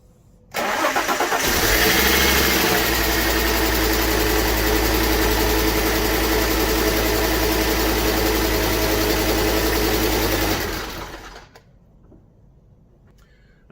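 A Fiat Coupe engine cranks briefly and catches, settling into a loud, steady idle with strong low rumble and vibration for about ten seconds before cutting off abruptly, close by with no talking.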